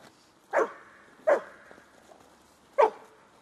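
A dog barking during play training for IPO work: three sharp, loud single barks spaced apart, with quiet pauses between them and no talk.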